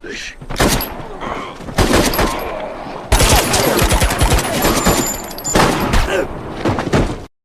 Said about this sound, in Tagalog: dumating si Ranger na may dalang baril at agad silang tinapos